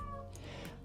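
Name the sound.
cat meowing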